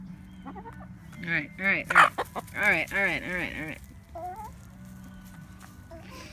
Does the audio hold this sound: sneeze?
no